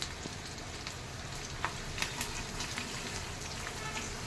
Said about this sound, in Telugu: కరివేపాకు వేసేసుకుని చిట్టా పట్టాలు ఆడాక